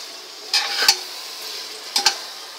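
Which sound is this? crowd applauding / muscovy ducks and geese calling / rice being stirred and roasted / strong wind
rice being stirred and roasted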